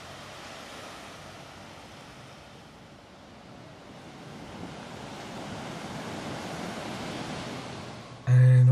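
Surf breaking on the beach at Manly, a steady broadband wash of waves rising slightly in level, with wind noise across the microphone and a brief loud knock at the very end.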